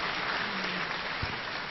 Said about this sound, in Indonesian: Tepuk tangan dulu Pak Adi.